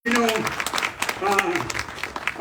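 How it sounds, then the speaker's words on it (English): Applause for Tucson Mayor Regina Romero at a downtown panel event, clapping from an audience mixed with a speaker's voice talking over it, rising and falling in bursts. "Give her a good round of applause."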